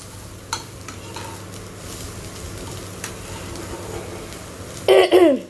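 Chire pulao of flattened rice with curry leaves, onion, capsicum and carrot being stirred and fried in a pan, a steady soft scraping and sizzle throughout, with a louder burst of clatter near the end.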